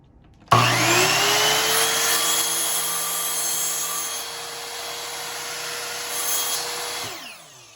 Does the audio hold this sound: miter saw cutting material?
yes